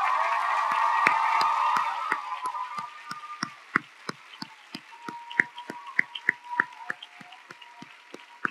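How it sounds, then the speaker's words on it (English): Commencement-ceremony applause from graduates rising to clap for their families: a dense wash of clapping at first that thins into scattered, sharp individual claps, fairly distant in a large hall. "I join with our graduates as they rise to applaud their families who've done so much to make this day"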